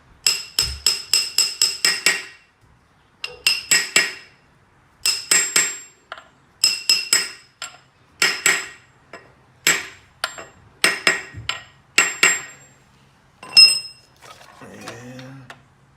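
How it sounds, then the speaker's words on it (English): Small hammer striking a brass punch to seat a Mustang transmission pump seal, sharp metallic taps in quick bursts of several blows with short pauses, close and loud, no talking. "I'm gonna take a brass punch with a small hammer and just line it up"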